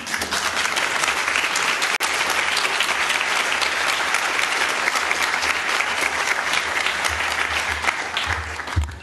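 An audience claps steadily and loudly for about nine seconds after a talk on autism, the dense applause staying even throughout before thinning slightly at the end.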